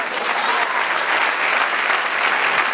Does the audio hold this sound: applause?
yes